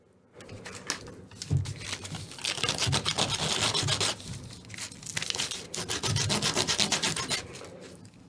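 A hand rubbing and sanding a part of a Baby Yoda puppet in a workshop, a steady close scratchy friction in repeated strokes that carries on for several seconds without talk.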